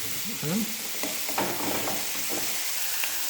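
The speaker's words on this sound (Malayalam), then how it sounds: "എന്നിട്ട് നല്ലോണം അതേപോലെ വീണ്ടും ഇളക്കി കൊടുക്കുക." Curry being stirred in a hot pan, a continuous sizzle with soft scraping strokes and brief clinks of the spoon, no talking.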